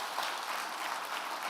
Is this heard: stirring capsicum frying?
no